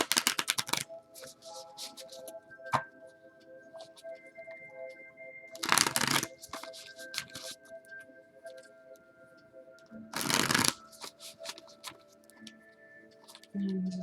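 Tarot cards being shuffled close up: soft ticking riffles with three loud bursts of rapid flicking, spaced several seconds apart.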